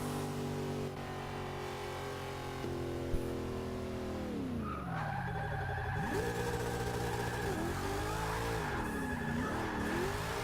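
A 1965 Ford Mustang drifting in Forza Motorsport 6, its engine droning loud and steady before revving up and down as the rear tires spin and squeal.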